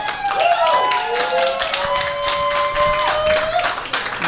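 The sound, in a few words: audience applause at fundraiser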